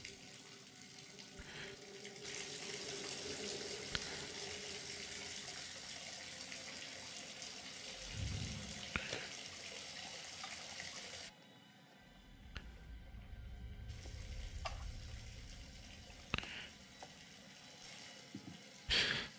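Water running from a tap into a bathtub in the video game The Devil in Me, a steady faint splashing hiss that pauses briefly near the middle, then resumes with some low gurgling and scattered clicks.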